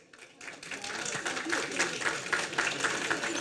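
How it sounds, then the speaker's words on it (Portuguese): Audience applause at an industry event in a hall, a steady wash of clapping that rises in the first half second and keeps up at an even level to the end, moderately close. "eu peço uma salva de palmas"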